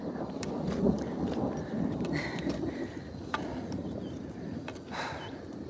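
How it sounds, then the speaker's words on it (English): Thunder rolls outdoors on a street as a long, low, continuous rumble that stays fairly steady over several seconds, with faint ambient noise around it. "Uh-oh. Thunder."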